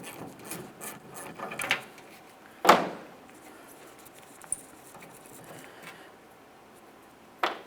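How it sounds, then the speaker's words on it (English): Socket ratchet backing out the last bolt of the tailgate handle on a 1994-2002 Dodge Ram 2500, with faint ratchet clicks, a sharp clunk near the middle and a few light metallic taps, close and quiet. "I'll take hold of that handle and fully remove this final bolt."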